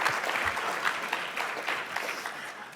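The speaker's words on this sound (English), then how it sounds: "pause for applause" Hall audience gives steady applause, a continuous wash of many hands clapping at moderate distance, even in level throughout and with no voices over it.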